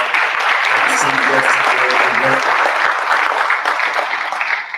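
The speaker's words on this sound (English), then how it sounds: "please give a round of applause to all of our panelists and all of our esteemed" An audience applauds panelists and esteemed guests, with a sustained wash of clapping throughout and a voice briefly speaking over it near the start.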